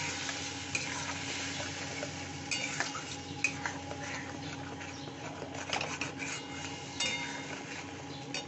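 A paste of onion, ginger and garlic with a little turmeric fries in oil in a pan, hissing steadily while a spatula scrapes and stirs in repeated clicks and knocks.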